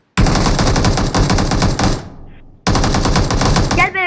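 Rapid automatic gunfire from the video game PUBG Mobile comes in two loud, close bursts with a short pause between them.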